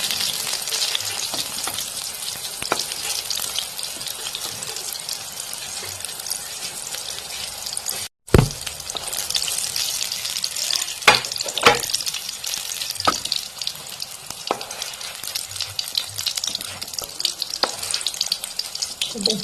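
Eggplant fries in a pan with no added oil, producing a steady, close crackling sizzle broken by occasional sharp stirring scrapes and clicks, with one brief cut-out partway through.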